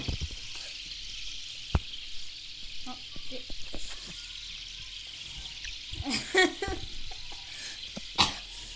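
Dry ice bubbling and fizzing in water, with a banana dropped in, gives a steady low hiss broken by irregular gurgles and popping bursts, louder clusters near the end.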